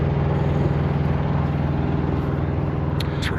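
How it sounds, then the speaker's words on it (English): Generators at a campsite hum at night in a steady, close, low-pitched drone with an even rumble throughout, and a couple of brief high chirps come near the end. "all I can hear is the hum of their generators"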